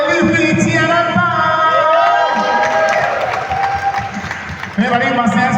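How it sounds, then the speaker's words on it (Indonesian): Applause and some cheering from a crowd at a film press conference and meet-and-greet, mixed with music and a voice over it, fading somewhat toward the end before picking up again. "Nanti lain satu tepuk tangan dong si Aji."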